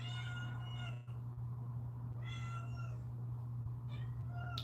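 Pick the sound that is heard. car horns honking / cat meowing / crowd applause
cat meowing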